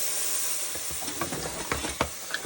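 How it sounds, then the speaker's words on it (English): Spoon stirring milk into white gravy in a pan, soft scraping strokes with a steady background hiss and a few louder clinks near the end. "Milk, add your milk slowly, and you want to stir."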